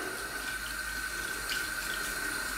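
Warm tap water runs steadily from a faucet to wet a synthetic shaving brush at a bathroom sink, a continuous soft hiss and splash with no talking.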